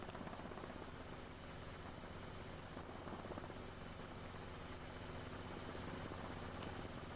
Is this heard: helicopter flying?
yes